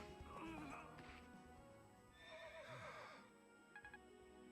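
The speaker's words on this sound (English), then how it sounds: "That's a horse stock sound." Stock horse neigh sound effect in a 3DS video game demo battle, a loud whinny rising and falling, mixed with game clatter, thuds and hoofbeat-like clip-clops.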